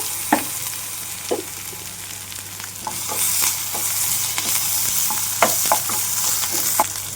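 Ginger garlic paste fries in oil with curry leaves in a pan for a sprouted moong curry, a continuous close sizzle broken by scattered ladle scrapes and taps, steady and fairly loud, without any talking.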